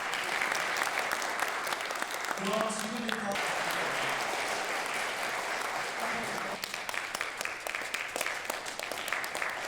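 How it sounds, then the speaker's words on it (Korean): Crowd applause at the launch ceremony of the Gumi council of the Democratic Peaceful Unification Advisory Council, continuous dense clapping throughout with a brief voice and music rising over it midway. "박수 부탁드립니다."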